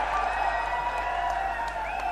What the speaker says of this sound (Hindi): हरियाणा के उप मुख्यमंत्री भाई दुष्यंत सिंह चौटाला जी को एक बार जोरदार तालियां बजा करके